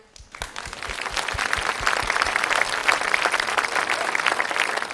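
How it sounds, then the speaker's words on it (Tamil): Studio audience on Jaya Super Singer South India bursts into loud, sustained applause after the contestants' song, dense clapping filling the whole stretch at steady volume with no talk over it. "நமக்காக நாமளே வந்து ஒரு பலத்த கைத்தட்டல் கொடுத்துக்கலாமே"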